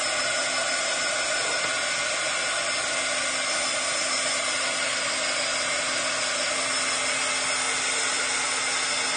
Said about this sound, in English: let's give everybody a hit with the heat tool